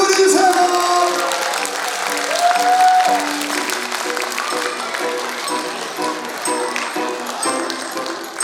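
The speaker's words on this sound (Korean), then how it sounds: "박수 한번 보내주세요." An audience at a kindergarten recital applauds in a dense, sustained wash of clapping that fills the room, with a few bright tonal pings ringing over it and tapering slightly toward the end.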